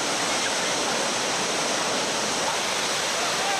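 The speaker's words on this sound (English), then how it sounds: "Jackie Ward and Company, pointed down the main body of the rapid" A whitewater river rapid roars in a dense, unbroken rush, loud and close, alone without voices.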